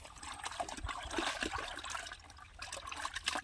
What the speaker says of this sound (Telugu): ఈ విధంగా చేసిన తర్వాత పేడని నీళ్ళలో కలుపుతూ